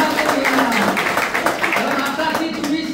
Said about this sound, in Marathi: हा आता ती वा मॅडम साठी टाळ्या उडल्या.